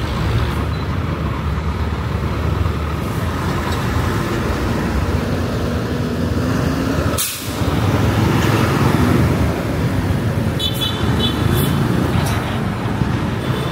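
Busy street traffic in Cagayan de Oro during a holiday market, a dense steady wash of engines and road noise from passing cars, buses and trucks, with a brief dip midway and faint honks near the end.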